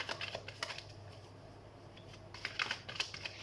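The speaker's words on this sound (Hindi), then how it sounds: "तो हम कार्ड शफल कर लेते हैं।" A deck of tarot cards being shuffled close up, quiet bursts of riffling and flicking at the start and again near the end, with a faint lull in between.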